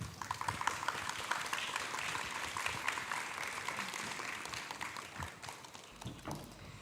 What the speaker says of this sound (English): Let's give another round of applause to the students.